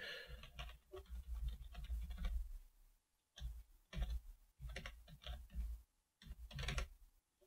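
Computer keyboard keys tapped in quick clustered runs with short pauses between them, close and fairly quiet, typing a password.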